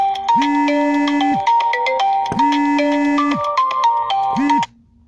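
Phone ringtone from an incoming call, a loud electronic melody repeating three times in a steady pattern, cut off abruptly after about four and a half seconds.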